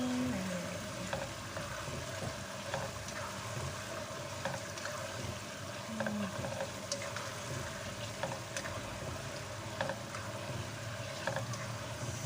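Garlic chicken frying in a pan, a continuous sizzle with soft irregular scrapes and clinks of stirring over a steady background hum, no talking.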